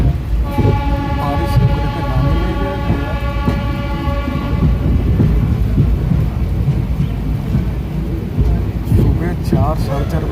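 Heavy rain and thunder outside the Mussoorie Express on the Old Delhi to Dehradun run blend into a loud, steady rumble of the moving train, a dense, continuous roar with no clear breaks.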